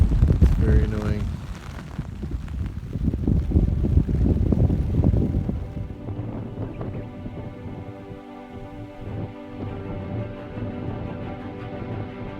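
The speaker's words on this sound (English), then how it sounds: "just wish this wind would go away" Gusty wind buffets the microphone at an outdoor backcountry cooking spot during a hunting trip, a heavy low roar for the first half that eases into a quieter hum with steady tones.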